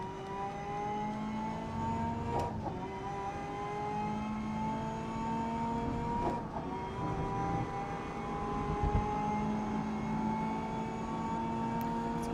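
Racing car engine in GRID Legends, a steady sustained drone with rising and falling harmonic pitch as the car holds speed, joined by a few brief sharp transients.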